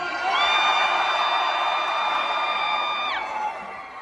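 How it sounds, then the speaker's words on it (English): A festival crowd at HebCelt by Lews Castle in Stornoway screams and whoops on cue, a loud, dense roar of many voices with a piercing whistle sustained for about three seconds before easing off. "I want to see your hands in the air, screaming on the count of four"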